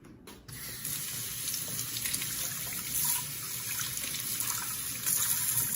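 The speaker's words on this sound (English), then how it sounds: "See how your water's dripping over my fingers?" Water runs and trickles over fingers into a cooking pan, a steady close splashing stream with a faint hiss and no voices.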